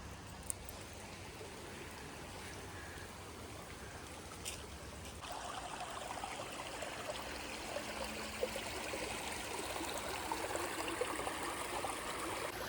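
A shallow river stream in the New River Gorge flows and trickles steadily, a continuous close babble of water over rocks that grows slightly fuller partway through, with no talking.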